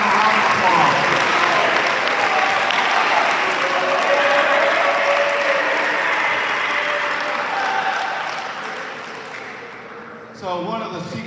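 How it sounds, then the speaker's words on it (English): Audience applause fills a sports awards ceremony as JV and varsity tennis players stand to be recognized, a dense, steady clapping that holds for several seconds, fades toward the end and gives way to a brief burst of other sound. "Recognize those guys in a round of applause."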